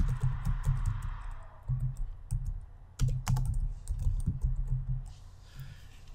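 Keystrokes on a computer keyboard while typing a search into a web browser, a quick irregular run of soft close clicks with brief pauses between bursts.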